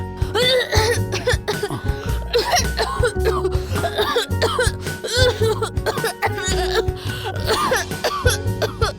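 Repeated coughing fits close by, mixed with laughter and voices, in rough bursts throughout.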